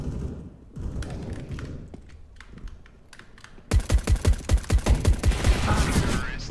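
Gunfire in Counter-Strike: Global Offensive erupts as a rapid burst of loud, punchy shots, preceded by quieter scattered clicks and game noise.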